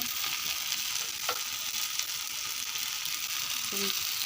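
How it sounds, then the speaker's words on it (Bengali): Spices such as salt, sugar, chilli and turmeric fry in hot oil in a kadai with paneer pieces, giving a steady close sizzle with a few faint clinks of stirring. "ভালো করে মশলা ভেজে নেবো"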